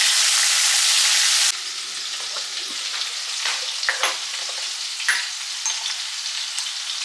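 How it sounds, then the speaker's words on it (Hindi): Chopped tomatoes hitting hot oil with nigella seeds, a loud burst of sizzling that settles into steady frying with scattered pops and stirring scrapes, close with no talk. "अब इसमें डालेंगे ये जो टमाटर काट के रखे थे"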